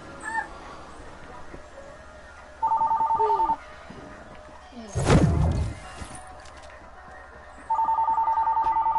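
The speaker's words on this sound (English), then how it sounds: "That's the house phone." A house telephone rings in two electronic bursts of rapid warbling tones, each lasting about a second, separated by a gap with a short loud thump and rumble from game audio in the background, fairly close and clear, with no talking.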